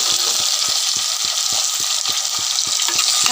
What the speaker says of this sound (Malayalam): തക്കാളിയും ചേർത്ത് നല്ലപോലെ വഴറ്റണം.